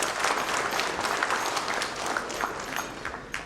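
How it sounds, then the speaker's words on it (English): Warm applause from a conference audience welcoming the chief guest, a Tata Chemicals MD and CEO, to a special address; dense, steady clapping fills the room throughout at a fairly even level. "let's welcome Mr. Mukundan, first of all, with a very warm applause"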